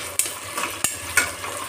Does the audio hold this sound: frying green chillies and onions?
yes